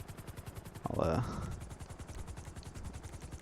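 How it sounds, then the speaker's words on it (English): A helicopter in GTA 5 hovers nearby, its rotor chopping in a fast steady rhythm throughout, with a brief spoken word over it. "I forgot the helicopter's still out here"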